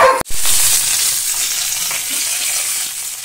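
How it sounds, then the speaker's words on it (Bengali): Bhetki fish frying in oil, opening with a sharp crackle as it meets the pan, then a bright, close sizzle that gradually softens and steadies. "তো চলো ভেটকি মাছটা ভাজা হোক এখন"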